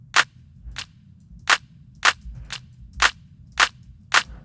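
Custom layered clap sample from a sound design tutorial, sharp dry snaps repeating eight times in a loose rhythm, crisp and close over a low background bed.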